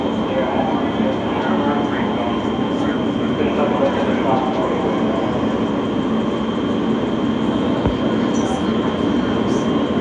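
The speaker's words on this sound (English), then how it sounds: "Nassau Avenue bound G local train." An R160 G local subway train runs between stations, a steady loud rumble with wheel and track noise filling the ride, and a constant high hum over it.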